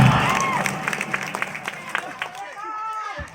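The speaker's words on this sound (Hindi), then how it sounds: "एक बार जोरदार तालियां अमिताभ बच्चन के नाम पे आए।" Audience at a live stand-up comedy show breaks into applause and cheering, a dense burst of clapping that thins out over a few seconds while a loud voice carries over the top.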